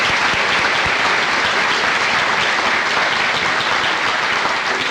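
A large audience at an annual articulation conference in 1991 gives committee members a round of applause, a loud, steady, dense wash of many hands clapping that fills the whole stretch without any talking.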